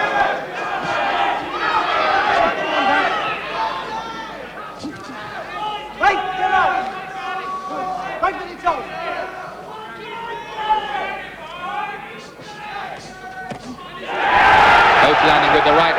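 A fiercely partisan boxing crowd roars in a loud, sustained wave while a bout between Gary Jacobs and Del Bryan goes on, swelling sharply near the end as a punch lands, with voices calling out through the din.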